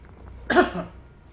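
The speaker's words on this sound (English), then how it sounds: "I'm about to cough." A single person coughs once, a sharp, close burst after a brief pause, during a tabletop game session of Arkham Horror: The Card Game.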